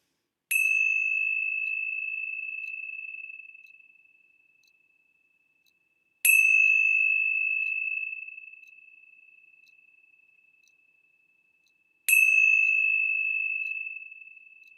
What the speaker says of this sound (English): let's begin our time together with the ringing of the bells.